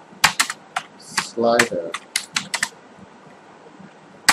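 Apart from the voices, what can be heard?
typing on a computer keyboard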